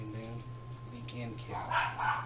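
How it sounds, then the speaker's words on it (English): Dogs bark a few times in the background while someone talks over them about assembling a lightsaber hilt. "Sorry about the dogs barking."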